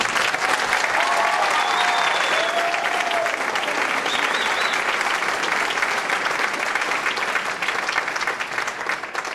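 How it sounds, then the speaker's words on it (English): Parents clap for graduates of a police department youth academy, a loud, dense round of applause from a large crowd that holds steady for nearly ten seconds with a few faint whistles mixed in. "Parents, if you give them a hand of applause."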